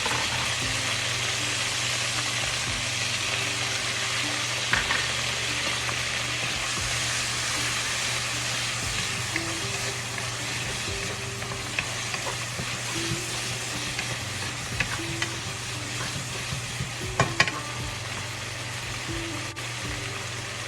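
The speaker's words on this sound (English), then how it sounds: "Add the olives and the capers to the pan and sauté for 1 to 2 minutes." Olives and capers sauté in a hot pan, giving a steady, close sizzle and frying crackle that runs throughout with a few brief stirring clicks and no voices.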